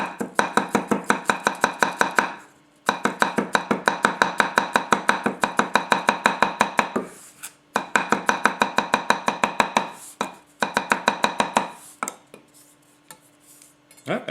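Garlic is chopped with a Masakage Koishi 270mm gyuto knife: quick, evenly spaced blade taps on a cutting board in close, crisp bursts separated by brief pauses.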